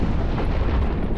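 A single sustained, rumbling blast of a video game explosion, loud and heavy, filling the whole moment without any talk.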